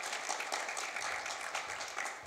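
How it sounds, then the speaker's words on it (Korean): A press event audience applauds steadily, a dense, even wash of many hands clapping with no speech over it. "박수로 환영해 주시죠"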